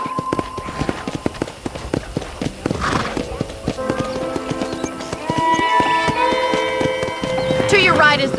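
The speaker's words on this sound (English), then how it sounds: "let's see if you can still ride a horse." A horse in the Red Dead Redemption video game trots along a ranch with steady clip-clop hoofbeats, a whinny partway through and game music rising beneath, while someone speaks over it.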